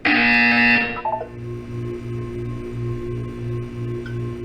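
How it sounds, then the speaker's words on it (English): A buzzer in Portal 2 sounds as one loud, harsh electronic blast lasting about a second, followed by a quieter low hum pulsing in an even rhythm. "You will hear a buzzer."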